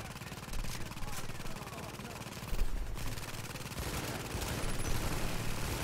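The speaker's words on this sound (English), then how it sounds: "I'm gonna shoot the guy on the left." Gunfire in The Division while shooting an enemy, rapid bursts of automatic rifle shots forming a dense, continuous crackle throughout, with a louder burst midway, under a speaking voice.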